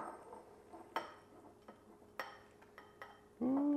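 Tuna casserole is scooped from a dish into a bowl: soft scraping and a few sharp clinks of a utensil against the dish, faint and close, ending with a louder muffled thud.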